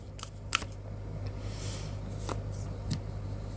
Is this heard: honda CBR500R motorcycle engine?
no